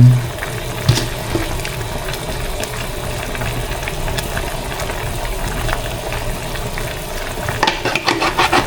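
Pork sinigang soup stirred in a pot, a continuous wet swirl of sloshing broth with light scraping, steady and close, ending in a brief burst of clinks and splashes.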